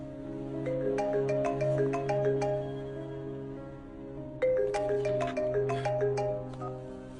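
A phone rings indoors with a melodic ringtone, repeating its tinkling pattern twice at moderate volume, with a short lull between the rings.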